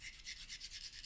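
A knife edge is worked back and forth on a 180 grit sharpening stone, giving a soft, steady rasping rub that pulses in short repeated strokes, close and quiet.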